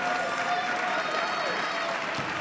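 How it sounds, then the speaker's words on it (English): A high school basketball crowd gives a standing ovation in a gym, producing dense, sustained applause and cheering that fills the whole stretch, with a voice talking over it. "And a standing ovation from the crowd, and his teammates come out to congratulate him."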